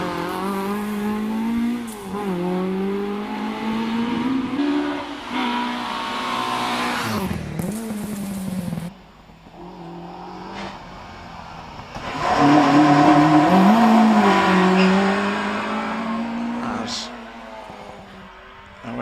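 Race car on a hillclimb run at Prescott, its engine note loud and close, rising and falling through gear changes, with a quieter gap midway before a second strong surge.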